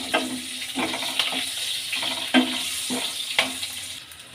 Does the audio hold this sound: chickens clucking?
no